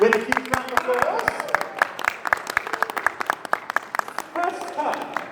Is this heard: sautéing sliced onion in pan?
no